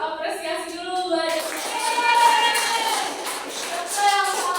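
Children in a classroom clapping together in appreciation, a brief burst of applause with a voice audible near the start.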